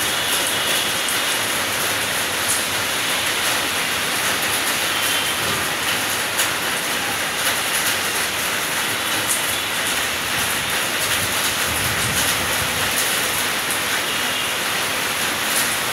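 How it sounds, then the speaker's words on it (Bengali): A Dhaka metro rail train running through heavy rain, its broad rumble and faint rail clatter blended with a dense, constant hiss of rainfall, loud and steady with no voices. "এই যে আমাদের মেট্রো রেল"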